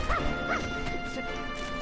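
A dog in Dragon Quest Builders 2 gives a couple of short yipping barks over steady game music, all within under two seconds.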